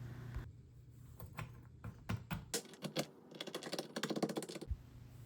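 Walnuts being chopped on a board for a chocolate walnut cake, giving a close run of sharp, irregular knife taps that quicken into a dense flurry near the end, with no talking.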